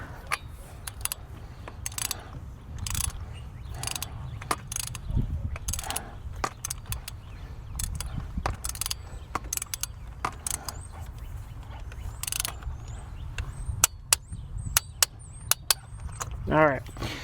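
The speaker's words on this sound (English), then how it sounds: "we'll go ahead and torque it down." Ratchet wrench torquing down spark plug coil bolts on a BMW 550i engine, steady rapid clicking of the pawl with occasional louder metallic ticks and tool clinks, close and alone.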